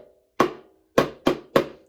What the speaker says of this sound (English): son's little Daniel Tiger drum that I'm going to use here